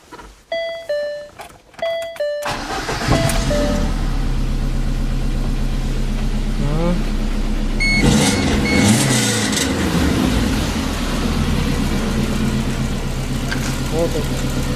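A VAZ car with a squeaking muffler starts after a few chime tones, then idles with a rough mid-pitched engine drone and a brief rev, a voice talking over it.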